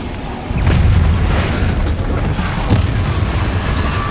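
A loud, sustained blast from the Bombarda explosion spell in Hogwarts Legacy booms and rumbles continuously, a dense wall of explosive noise from game combat with a second burst partway through.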